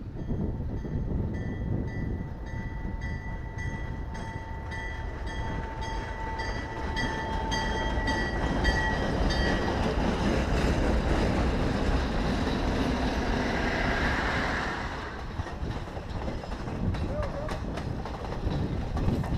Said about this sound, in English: So let's wait for the train and see what happens.